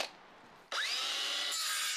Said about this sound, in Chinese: 电线的这个洞给钻出来，我这里已经标记好了。